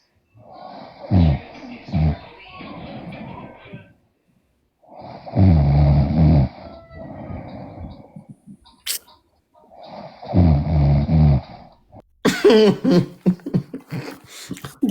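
Snoring from someone asleep during a livestream, three loud rough bursts at a regular pace, each followed by a sharper snort or gasp, with a brief high noise near the end.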